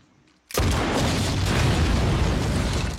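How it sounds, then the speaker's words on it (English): Sticks of dynamite detonate and destroy a bridge in The Walking Dead, a loud sudden boom that breaks a near silence and rolls on as a dense, sustained roaring rumble. "The resulting explosion destroys the bridge and takes out a huge amount of walkers."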